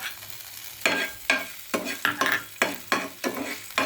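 Spices including ginger, cinnamon and cardamom stirred in a hot pan for a lactation drink, giving about eight rhythmic scraping, sizzling strokes close by, with no talking.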